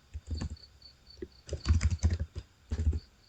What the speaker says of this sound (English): you just need to type in the title like this